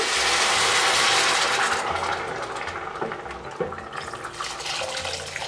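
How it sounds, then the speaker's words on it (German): Boiling water poured into a pot of browned meat for a dish of dried okra and chickpeas, giving a steady loud rushing hiss and bubbling that eases slightly after a couple of seconds, with no talking. "Jetzt gebe ich kochendes Wasser rein."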